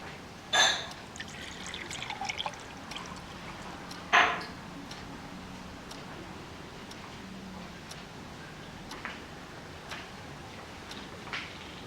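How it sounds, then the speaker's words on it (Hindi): Water trickles and pours into a glass in the video game RIKT, a soft liquid stream under faint ambient ticks, with two sharper clinks near the start. "एक गिलास पानी मिल सकता है?"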